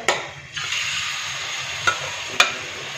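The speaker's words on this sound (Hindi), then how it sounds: "इसको मैंने अपने तवे पे डाल लिया है अब हम इसका कलर चेंज करने तक इसको फ्राई करेंगे" Chicken liver sizzles steadily on a hot tawa, a continuous frying hiss with a few sharp clicks of a spatula stirring, close and alone without any voices.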